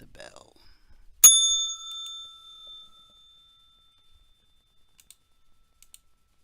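A single bright bell strike rings out at the start of a trading session, sharp and close, its tone decaying over about two seconds, followed by a few faint clicks; a voice is heard briefly just before.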